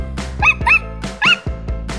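A young child imitates a dog, giving several loud, close yapping barks in quick succession with short pauses between them.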